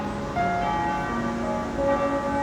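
Church bells ringing with sustained, overlapping metallic tones that hum and linger steadily throughout.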